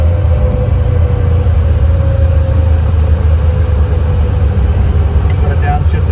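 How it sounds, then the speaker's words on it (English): A 1966 Chevrolet Nova restomod with a 4-speed manual, engine rumbling steadily from inside the car during a downshift into third gear, a continuous low drone with someone talking over it. "I got the clutch in. Put a downshift into third gear."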